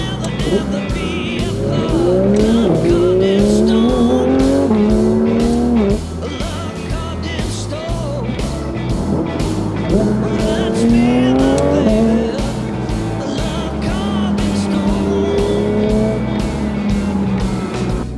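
A Porsche GT3 RS drives along a rough boulevard, its engine loud and close, climbing through the revs with repeated gear changes across the run, while a person talks over it.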